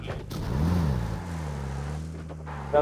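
A vehicle in an online video game drives with a steady engine drone and a brief revving rise early on, close and moderately loud, while players talk over voice chat.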